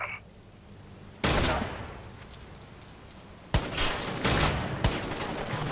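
Gunfire in the video game Watch Dogs comes as a loud close burst, then quiet, then several more sharp shots in quick succession, with a faint electronic tone and no talking.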